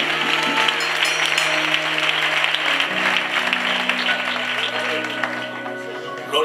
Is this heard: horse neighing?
no